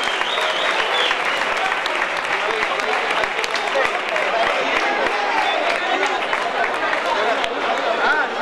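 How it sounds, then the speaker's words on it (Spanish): A crowd at an awards ceremony for an urban mile race and half marathon breaks into sustained applause, dense clapping mixed with chatter and voices throughout. "Un fuerte aplauso para ellos, que sin ellos esto no sería posible."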